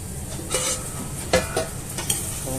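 Lamb shank pieces and vegetables stirred in a hot pan, a steady sizzle with several sharp scraping clinks of a spoon against the metal at irregular moments, close and clear with no voices.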